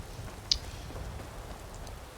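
Steady rain in the Skyrim video game, a soft even patter of falling drops throughout with one brief sharp tick near the start, moderately faint and uninterrupted by voices.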